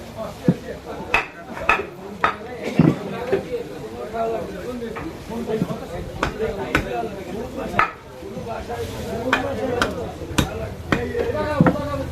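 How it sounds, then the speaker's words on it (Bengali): A big katla fish is chopped on a board with repeated uneven thuds and knocks, against clattering pots and dishes, while people talk throughout. "মাছটা একটু কাটতে আসি"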